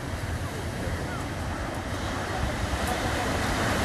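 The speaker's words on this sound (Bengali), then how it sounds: "এই টাইমটা জোয়ারের টাইম তাই ঢেউগুলো খুবই বড়ো বড়ো আসছে" Big high-tide sea waves at Digha beach in the evening, a loud, continuous surf roar with wind buffeting the microphone throughout.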